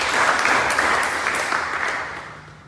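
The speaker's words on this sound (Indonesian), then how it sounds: "Beri tepuk tangan dulu yang mulia" A church congregation applauds during a worship service, a broad wash of many hands clapping at fair volume that gradually fades toward the end.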